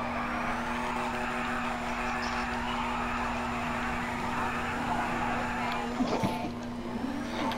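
Turbocharged car engine in Grand Theft Auto V, a steady droning hum with a held tonal pitch that lingers evenly, then a brief rise and wobble near the end, moderately quiet and continuous.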